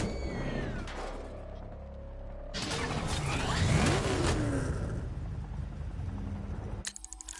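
In the video game Batman Arkham Knight, a vehicle engine rumbles and then roars louder as the car revs and pulls away, with clattering mechanical noise and an abrupt cut near the end.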